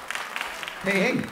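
Brief applause from an audience at a live comedy radio show, a short patter of clapping that is quickly followed by a voice calling out over it.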